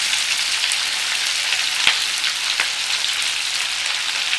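Onion and peppers sizzling in a pan over high heat for a cabbage stir fry, a loud, dense, continuous frying hiss with a few sharp pops, heard close with no talking.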